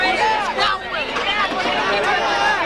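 Large, hysterical crowd of Depeche Mode fans at an autograph signing at The Wherehouse in 1990, heard as a loud, dense babble of shouting and screaming voices close by, with no gaps.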